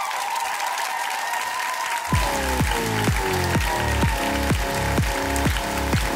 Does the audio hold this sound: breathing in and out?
no